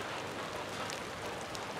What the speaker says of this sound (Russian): Идет дождик.